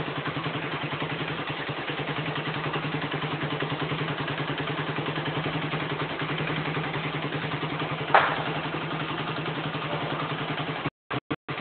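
A small petrol engine, probably a motorcycle, fitted with a spark plug enhancer and an HHO dry-cell generator, idles steadily with a dense, even clatter and a low hum, then cuts off abruptly near the end.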